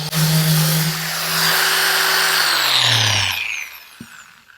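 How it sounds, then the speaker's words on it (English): A power sander works fiberglass filler over spider cracks with a loud, close, high whine that drops in pitch as the tool slows and stops, ending in a sharp knock. "I'm going to do it again by sanding."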